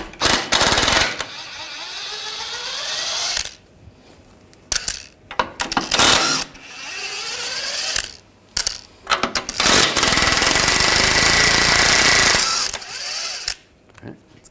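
Rusty ball joint nuts on a 2009-2017 Volkswagen Tiguan's front lower control arm being spun off with a 16 mm socket on an impact tool, loud rattling bursts in several runs separated by short pauses.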